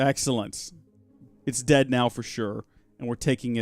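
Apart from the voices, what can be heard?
None of the usual background noises is heard.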